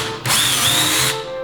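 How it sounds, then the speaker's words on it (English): A power drill fitted with a 1/16 bit whirs up sharply and runs for about a second while boring small pilot holes in wood for a DIY clothes drying rack, then winds down. "now take my drill. I've got a 1/16 bit here, and I'm just going to make"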